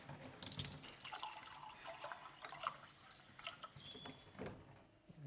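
Water from a kitchen tap runs steadily over frozen vegetables and wild blueberries in a cup, a soft continuous splashing with a few brighter drips, fairly quiet and close, with no talking.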